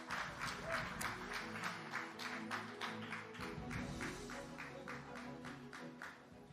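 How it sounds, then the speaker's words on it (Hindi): An audience at the She Shakti 2025 stage event claps to welcome a speaker, with steady overlapping applause at moderate volume and no one speaking. "सबसे पहले आरजे स्तुति, बहुत जोरदार तालियों से स्वागत कीजिए"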